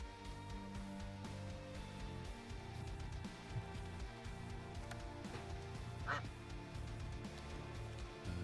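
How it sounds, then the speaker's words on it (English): Duck quacking in the Escape from Duckov video game, faint honking calls over a steady low game ambience with tonal background hum. "I do hear a duck, I don't care."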